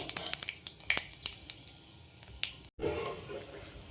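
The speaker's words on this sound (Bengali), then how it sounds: "আমি 5 ফোড়ন দিয়ে দিলাম সর্ষের তেলের মধ্যে" Panch phoron seeds pop and crackle in hot mustard oil, a rapid burst of sharp close snaps that thins into scattered pops over a soft sizzle, ending with a brief gap and then a renewed hiss.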